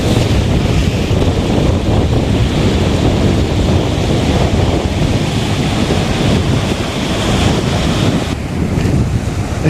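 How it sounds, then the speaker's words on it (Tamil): Strong sea waves crash and surge continuously onto a beach near Ramanathapuram, a loud, steady roar of surf mixed with heavy wind buffeting the microphone, with no talk. "அலை ரொம்ப ஓவராக இருக்குது அலைகள் ரொம்ப ஓவரா இருக்குது"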